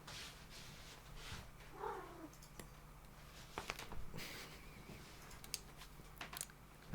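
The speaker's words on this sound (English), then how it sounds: "Sorry, this is cat therapy." A cat purrs softly and close by in a quiet indoor room, a low steady rumble broken by faint rustles and small clicks, with no talking.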